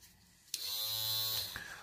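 A budget electric beard trimmer fitted with its shaver head starts abruptly and runs with a steady, close, loud electric buzz, then changes pitch briefly near the end as it is handled.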